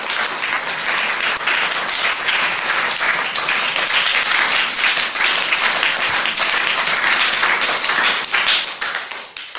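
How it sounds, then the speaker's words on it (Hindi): Steady, loud applause from a group of children, dense clapping sustained for several seconds before starting to thin at the end. "तालियां बजाइए।"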